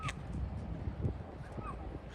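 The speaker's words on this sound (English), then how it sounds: "there are a bunch of birds over here" Faint crows caw a couple of times in the distance near a dock on the Apostle Islands, barely rising above a low, rumbling background of wind and ambient noise.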